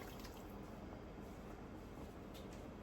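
Water poured from a measuring cup into a pot, a steady continuous splashing wash that holds constant and close throughout, with no talk.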